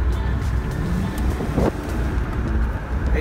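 A Land Rover Discovery 2 drives with its windows down, a steady close rumble of engine and road noise mixed with wind buffeting, unbroken throughout.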